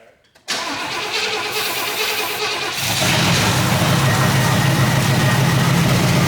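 A 1977 Pontiac Grand Safari station wagon, abandoned for 30 years, cranks and fires on brake cleaner. A short starter burst is followed by a loud, rough, steady engine roar that grows fuller and keeps running, close up.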